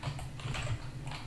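Keys tapped in quick succession on a computer keyboard while a folder name is entered, a steady run of soft clicks over a low hum, fairly close and alone.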